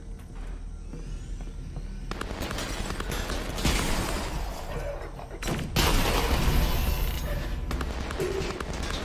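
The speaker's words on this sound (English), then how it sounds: "Let's try this nade launcher." Grenade launcher fire in the VR shooter Half-Life: Alyx, heard as loud booming bursts and blasts over constant game noise, with a big impact near the middle and another heavier one later.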